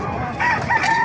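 Roosters crowing at a gamecock market in Calumpit, Bulacan, a loud nearby crow rising in two strained bursts, with no talking.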